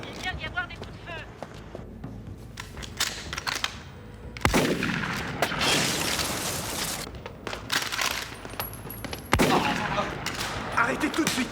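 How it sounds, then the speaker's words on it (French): Gunfire in a French crime film, with bursts of sharp shots and rattling volleys that jump out over ongoing voices, shouting and movement, loud and close. "Il vient d'y avoir des coups de feu."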